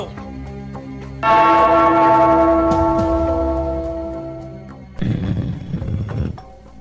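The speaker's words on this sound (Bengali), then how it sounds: "ওই ঘন্টাটা বাজাও, বাজাও।" A bell engraved with a moon is struck once, ringing out loud and clear with a long, shimmering decay, followed by a second, duller knock and rattle near the end.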